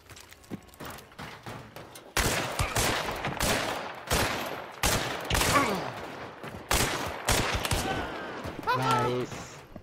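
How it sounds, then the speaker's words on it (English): Bursts of suppressed gunfire from the video game Hunt: Showdown, rapid muffled shots in uneven clusters, fairly faint under people talking. "I hear suppressors."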